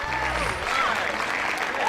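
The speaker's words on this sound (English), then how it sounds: "All right, does that deserve a round of applause?" An audience applauds briefly at a live demonstration, a soft, even spread of clapping with voices murmuring underneath.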